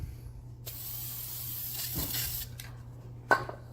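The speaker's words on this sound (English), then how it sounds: "So little squirt of primer." Short bursts of primer sprayed from an aerosol can onto a motorcycle fuel tank: a steady, close hiss that runs about two seconds, then a brief second puff, over a low background hum.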